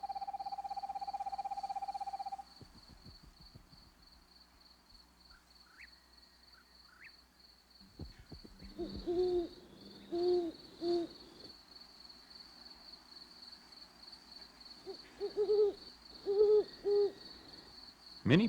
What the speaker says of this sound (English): Many people have heard an owl hooting